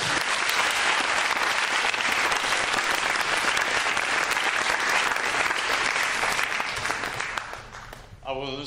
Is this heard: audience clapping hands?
yes